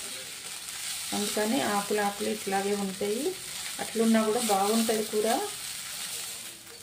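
Tummi leaves frying and being stirred in a pan, a soft steady sizzle with occasional scraping, heard under someone talking throughout.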